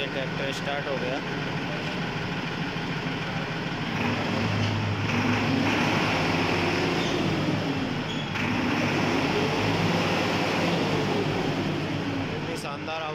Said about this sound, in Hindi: देखिए ट्रैक्टर स्टार्ट हो गया।